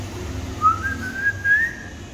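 A female pet parrot gives a thin, clear whistle that rises and holds in a few drawn-out notes, close by against a quiet low background hum.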